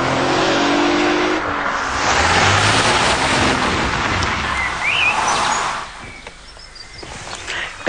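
Alfa Romeo 156 GTA sports saloon engine revving and accelerating, a loud sustained roar that fades a little toward the end, with no talk.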